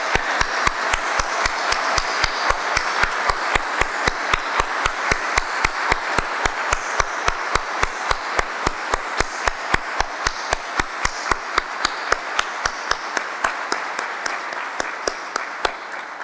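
An audience at a medical school white coat ceremony applauds the graduating class, the clapping falling into a strong, evenly paced rhythmic beat that stays loud and steady throughout.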